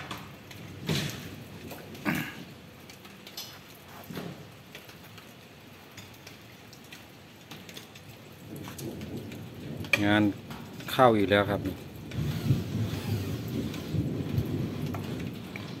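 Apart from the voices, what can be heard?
rain falling with thunder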